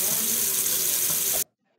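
Tap water runs in a steady, full gush in the video game Livetopia, loud and close, then cuts off abruptly.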